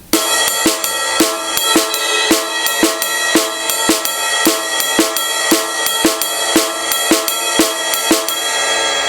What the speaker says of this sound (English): another pattern you can do is triplets on one hand and regular notes on the other hand